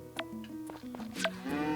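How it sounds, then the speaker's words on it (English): Cows mooing in the Story of Seasons: Friends of Mineral Town farming game, several synthesized low moos overlapping in quick succession over steady background game music, with no talk. "Let's milk these two cows."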